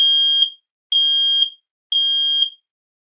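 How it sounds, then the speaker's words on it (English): A Nest Protect smoke alarm sounds its test alarm: three loud, piercing electronic beeps in an even rhythm, each lasting about half a second, separated by brief silences, with no talking. "The alarm will sound. It's going to be loud."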